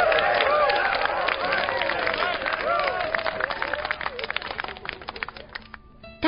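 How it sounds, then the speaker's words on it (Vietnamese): A crowd of villagers applauds and cheers at a ceremonial royal ploughing of the first field furrow, many voices calling out over a loud burst that thins into scattered shouts before ending abruptly. "Dân chúng vỗ tay hoan hô gian rền."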